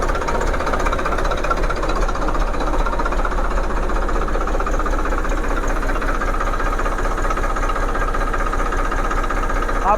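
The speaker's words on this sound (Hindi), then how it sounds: "आपको एक फ्लक्चुएशन महसूस हो रहा होगा साउंड के अंदर।" A tractor diesel engine idles up close with a loud, continuous knocking rumble whose speed wavers unevenly, the fuel pump nut left loose, with no talk.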